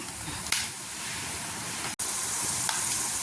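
Onions and spices fry in oil for lemon rice with a continuous soft sizzle and crackle, steady and fairly faint, broken by a brief clatter and a momentary gap.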